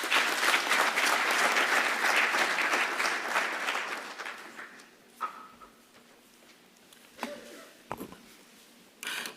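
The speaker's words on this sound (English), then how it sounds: "A round of applause for Dr." Audience applause at an engineering conference, a dense roar of clapping that holds for about four seconds, then thins to scattered claps and quiet room noise with a few isolated claps at the end.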